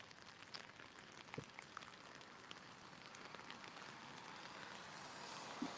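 Rain falls steadily on surfaces on a rainy Saturday evening walk near nightfall, a dense continuous patter with scattered sharper drops, even and unbroken, with no voices.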